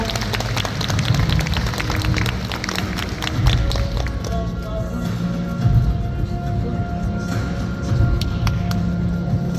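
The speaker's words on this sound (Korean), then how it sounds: "큰 박수로 축하해 주시기 바라겠습니다." Sustained audience applause at a Yu Gwan-sun award ceremony in the COEX Auditorium, a loud, continuous wash of clapping from a large crowd that holds steady throughout without a break.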